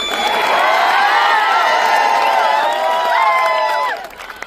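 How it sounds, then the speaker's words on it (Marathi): A large crowd at a protest rally in Sambhaji Nagar claps, cheers and whoops loudly and steadily, with shouts layered over each other, fading out near the end. "टाळ्या वाजवा आता माझ्यासाठी."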